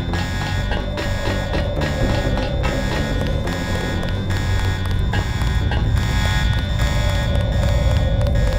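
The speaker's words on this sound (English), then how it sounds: "The alarm sounds when we do that" Electronic alarm blaring inside a facility in the Deus Ex video game, a continuous, loud, buzzing tone sustained throughout over a busy game soundscape, with no voices.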